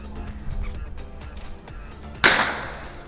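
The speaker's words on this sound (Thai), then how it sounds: "นั่งจากในห้องนี้แล้วก็ดูเพื่อนๆยิงปืนข้างนอกก็ได้นะคะ" A single sharp gunshot at an indoor-outdoor shooting range in Pattaya, Thailand, cracks out moderately near after a stretch of quieter background noise, with a brief ringing decay.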